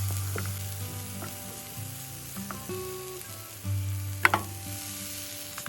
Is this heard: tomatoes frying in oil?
yes